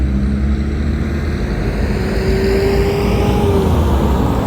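Vehicles pass on a rural road near Kabiti in Murang'a, Kenya, a steady loud traffic roar with engine drone rising and a passing whine, no talk.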